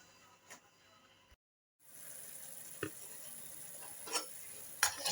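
Chicken and tomatoes with salt cook together in a pan, giving a soft, continuous sizzle with a few stirring clatters. The sound is fairly faint and close, with one brief silent gap near the start.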